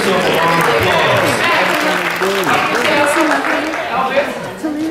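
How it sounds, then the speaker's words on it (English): Audience applause at a high school drama department's encore-night performance, loud and sustained with cheering and crowd voices mixed in throughout, fading slightly toward the end. "Give yourself a round of applause."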